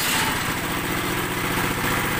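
A concrete block making machine's engine runs steadily and close by, a continuous rhythmic mechanical drone with no pauses or voices.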